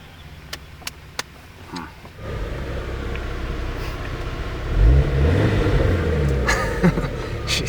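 Jeep Cherokee XJ engine cranking, catching and settling into a rough idle that swells briefly, preceded by a few sharp clicks, close by with no talk.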